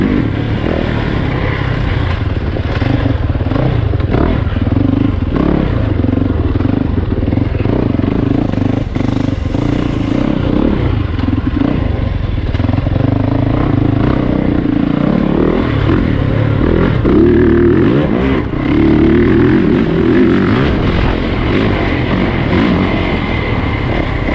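A 2020 Yamaha YZ450FX dirt bike is ridden hard, its engine loud and close throughout, the revs rising and falling steadily with clattering mechanical noise and wind underneath, and no talk.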